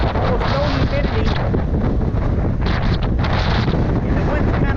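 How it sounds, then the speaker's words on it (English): Strong wind buffeting the microphone during a bike ride on a sunny, windy peninsula by the coast, a steady loud roaring rush with gusty swells throughout. "And the wind's kind of busting us a little bit."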